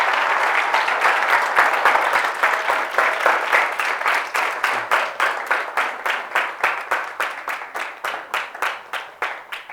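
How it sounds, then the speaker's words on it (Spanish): A church congregation applauds during a sermon, dense clapping at first that gradually thins into separate, rhythmic claps fading toward the end. "démosle un aplauso al Señor"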